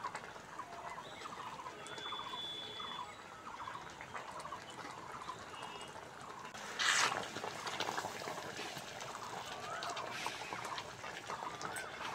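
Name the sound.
egg curry gravy boiling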